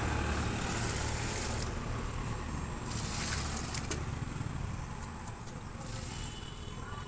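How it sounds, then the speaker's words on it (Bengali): Water poured onto potted plants on a rooftop makes a steady, fairly faint hiss and splash that runs throughout and swells slightly midway. "আস্তে আস্তে আমি সব গাছগুলোকে জল দিয়ে দেবো"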